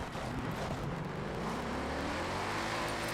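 Car engine in the racing game Forza Horizon 6, a steady droning roar that holds constant as the car corners, with no talk over it.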